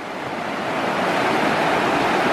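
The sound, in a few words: flooded Ovens River rushing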